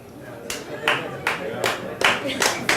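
A small stand-up comedy audience claps in short bursts, about six separate rounds of applause in quick succession, fairly close.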